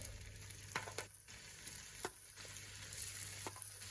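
Lobster pieces fry in a pan with a faint, continuous sizzle and a few soft clicks spaced about a second apart, heard alone.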